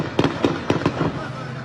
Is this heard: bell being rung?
no